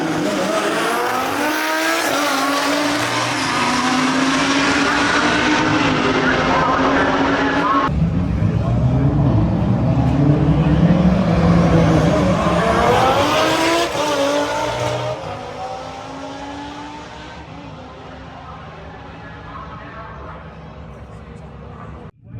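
Drag cars launch down the strip at a Euro drag racing event, including a twin-turbo car, with loud roaring engines and a rising, sustained rush that fades toward the end, crowd voices mixed underneath.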